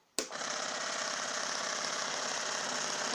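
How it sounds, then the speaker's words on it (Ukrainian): An Orgona generator motor-wheel starts abruptly and spins steadily, giving a loud, constant whirring hum with a buzzing, rattling edge that holds without change and has no talking over it. "Колесо крутиться досить потужно"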